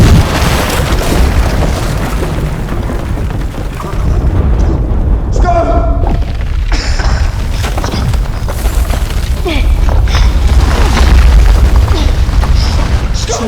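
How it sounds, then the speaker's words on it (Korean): A booby trap blows up in an abandoned German dugout in a war film after a rat trips it. A loud, sustained boom and crashing rumble fill the scene, with narration spoken over it. "순간 폭발물이 터지고"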